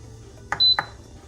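An Instant Pot electric pressure cooker gives a short pair of button clicks with a single clear, steady beep between them as it is set to saute, in a quiet kitchen.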